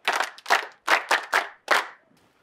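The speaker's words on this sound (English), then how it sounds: "a round of applause for her." A small group claps for a woman in a Yoruba drama scene: about six separate, sharp bursts of hand claps at an uneven rhythm, close and fairly loud, each trailing off quickly, then silence.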